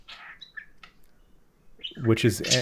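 Pet birds Kiwi and Pixel chirp with short, thin whistled calls near the start, followed after a quiet gap by a louder burst of harmonic, voice-like chatter at close range.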